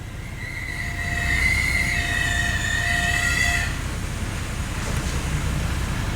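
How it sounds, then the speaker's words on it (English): High, thin squeal from the brake wear sensor of a 2014 Acura RDX backing up in reverse, holding steady for about three seconds over low rumbling before fading out. "It sounds like the wear sensor is squealing"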